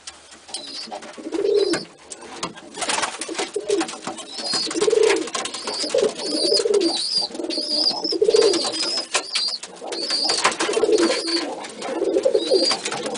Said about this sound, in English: She is not the kind of bird to sit on my hand like this.